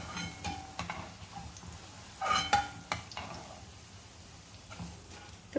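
Large besan pakoras for Sindhi sanna pakoda fry in hot oil with a soft, continuous sizzle, punctuated by occasional clinks and scraping stirs from a utensil in the pan.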